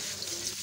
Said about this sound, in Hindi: चावलों को अच्छे तरीके से धोएंगे 2 से 3 बार।